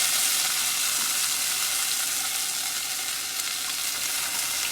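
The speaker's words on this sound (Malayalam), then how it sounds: "അവിടെ പുളി നന്നായി ഞെരടിയിട്ട് അങ്ങോട്ട് ഒഴിച്ചു കൊടുക്കുക" Squeezed tamarind water hits a hot pan for a chilli-fried tamarind dish, producing a loud, dense, hissing sizzle that stays even and close throughout.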